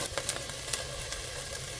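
Mushrooms cooking in a pan with salt for beef stroganoff, a quiet continuous sizzle with a few light ticks and crackles, no voices.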